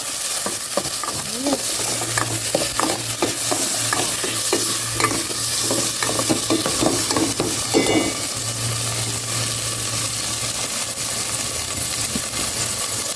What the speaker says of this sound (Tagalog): Gisa ko na rin itong kamatis saka.